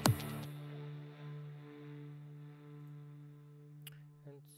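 A sustained synth pad from an FL Studio big room track holds a steady chord with a soft attack and a long, even decay, quiet and alone, with a couple of brief faint clicks near the end.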